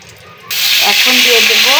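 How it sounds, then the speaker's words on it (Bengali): Cumin seeds hit hot oil with a sudden hiss that swells to a steady close sizzle after a short quiet start, with a faint voice tone running underneath. "ওই তেলে এই যে একটু জিরা ফোড়ন করে নিব"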